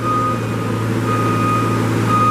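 A 2012 Moffett M55.4 truck-mounted 4-way piggyback forklift drives with a steady, loud engine drone and a repeating high-pitched reversing beep pulsing over it throughout.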